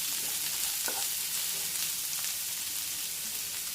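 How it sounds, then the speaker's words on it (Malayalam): Finely chopped medium onion fries in a pan for Kerala-style cauliflower thoran, a loud, steady, close sizzle with occasional stirring scrapes and no voices. "ഇനി സവാള കട്ട് ചെയ്ത് ഇട്ട് കൊടുത്തു."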